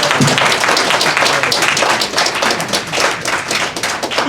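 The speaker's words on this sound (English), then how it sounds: "Again, round of applause, please." Audience applause at a Moorish Honors recognition certificate ceremony, a loud, dense crowd clapping that runs steadily for several seconds with scattered sharper claps standing out.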